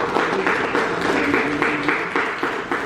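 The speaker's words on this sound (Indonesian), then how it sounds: "Oke, tepuk tangan untuk kelompok." Participants in a lecturer certification session applaud a group, a short run of steady, fairly close clapping from a small crowd.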